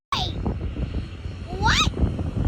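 An Air Canada airplane takes off nearby with a loud, steady engine roar, while a voice exclaims over it.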